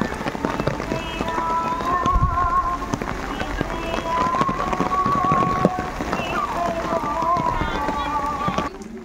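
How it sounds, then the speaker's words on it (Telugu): Steady rain patters outside a church with a market place under an overcast sky, a continuous close hiss throughout with faint voices and a melodic tone drifting over it. "వర్షం పడుతున్న సమయంలో మేఘాలతో కమ్మిన ఆకాశం మధ్య నిర్మల మేరీమాతా చర్చ్ మార్కెట్ ప్లేస్"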